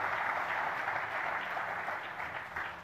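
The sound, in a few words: audience applause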